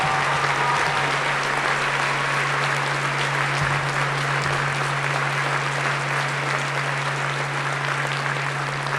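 A large audience at a 2018 Woodbury High School graduation ceremony claps for students honoured for excellence in athletics, producing a dense, sustained wash of applause that holds steady for the whole stretch, with no speech over it.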